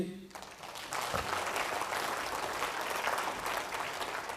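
A congregation at a religious service applauds with raised hands: dense, steady clapping that starts abruptly and continues at full volume to the end.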